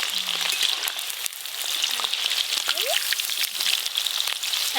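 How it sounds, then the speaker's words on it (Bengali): Crispy chicken frying in hot oil gives a dense, continuous sizzle full of tiny popping crackles, held close and even throughout, with a few faint high chirps in the background. "ধীরে ধীরে কিন্তু ভাজা হওয়া শুরু হয়ে গেছে"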